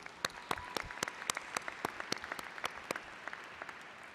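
Applause from a seated arena audience for graduates at the Hawkeye Community College spring 2021 commencement, steady crowd clapping with scattered distinct claps, somewhat distant and even throughout.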